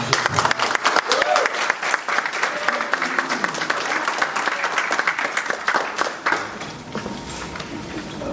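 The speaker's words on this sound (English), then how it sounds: "So, ladies and gentlemen, give a round of applause for our township." An audience at a Thornton Township board meeting gives a sustained round of applause, dense and steady, then gradually thins out toward the end.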